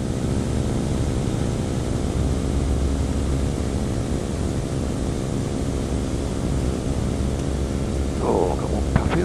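Microlight aircraft engine in flight on landing approach: a steady, loud, droning buzz with rushing wind noise throughout and a faint brief warble near the end.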